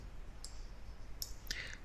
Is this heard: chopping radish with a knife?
no